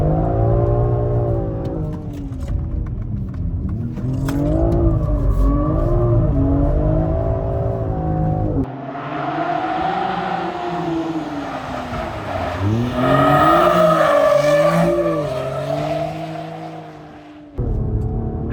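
A BMW X3 M SUV is driven hard and drifted. The engine revs rise and fall in repeated sweeping bursts, with some tire squeal in the later half and no talking.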